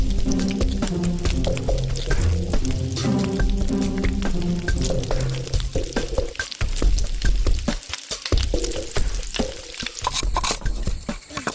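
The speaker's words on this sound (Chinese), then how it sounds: "藕夹入面浆，挂上面糊，温油炸至金黄" Battered lotus root slices stuffed with meat filling deep-frying in warm oil, a steady dense sizzle and bubbling with occasional stirring clatter, close and continuous with no talk.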